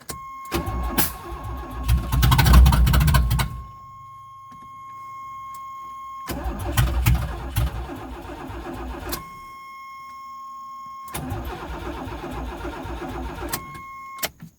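A car engine cranks and catches on starting fluid, running roughly for a second or two before dying, repeated in three bursts separated by quiet gaps with a steady tone in between.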